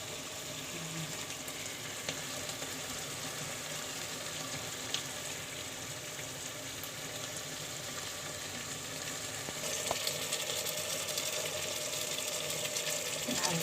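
Eggs frying in a pan on a home kitchen stove, a steady, quiet sizzle that continues throughout and turns a little brighter and louder toward the end.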